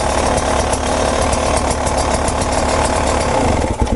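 A dirt bike engine runs loud and close in a continuous rough drone with a knocking texture, dipping briefly near the end.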